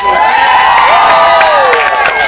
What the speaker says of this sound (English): Ms. Susan Sarandon, let's give her a round of applause.